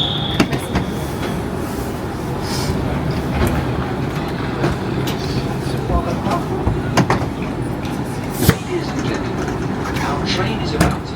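TGV high-speed train in Paris about to depart, with onboard rumble, clicks and short knocks as the doors shut, under steady background noise and occasional talk nearby.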